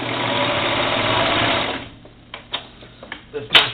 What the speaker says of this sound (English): And I'm going to start serging that.